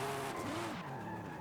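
Drift car in Forza Horizon 5 accelerating hard, engine note sweeping upward over continuous tire squeal and skidding, loud and close for a brief moment.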